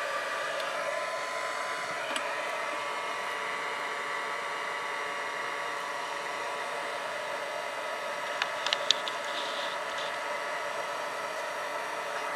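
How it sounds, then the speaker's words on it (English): A craft heat tool blows a steady, loud rush of hot air over a stamped tealight candle. The roar holds constant throughout, with a few faint clicks near the end and nobody speaking. "So excuse the noise, but use a heat tool"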